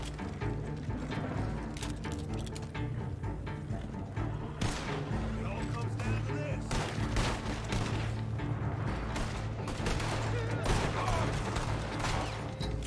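Drive-by gunfire in the video game Red Dead Online comes as repeated sharp shots and bursts over a busy game soundscape, with a voice talking across it.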